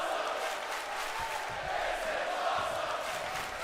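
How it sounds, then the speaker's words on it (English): A virtual arena crowd in the WWE 2K22 wrestling game roars and cheers continuously, a dense steady wash of noise with a commentator's voice talking over it. "Crowd loving it."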